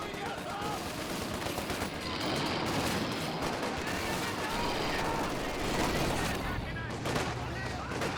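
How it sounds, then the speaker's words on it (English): Grenadiers fire rifles in a Company of Heroes 2 battle, producing dense overlapping crackles and bursts of gunfire along with distant booms, continuous and busy throughout. "Grenadiers firing away,"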